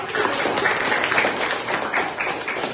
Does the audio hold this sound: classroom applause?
yes